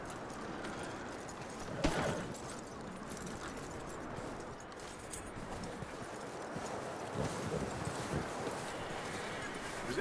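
Horse hooves clip-clop at a walking pace in the Red Dead Redemption 2 video game, soft and steady beneath outdoor ambience, with a louder thump near the start and voices speaking faintly.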